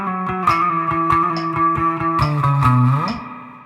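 Electric guitar plays a bar, close and clear, a run of picked notes with a steady click beneath and a sliding low note near the end.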